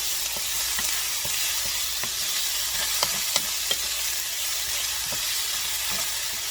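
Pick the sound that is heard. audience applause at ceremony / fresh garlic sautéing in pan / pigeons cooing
fresh garlic sautéing in pan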